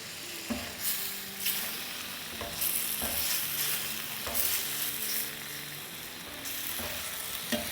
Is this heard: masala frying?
yes